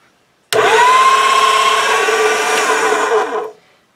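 A motorized pasta machine whirs as it rolls and conditions polymer clay, starting abruptly, running at a steady loud hum for about three seconds, then stopping.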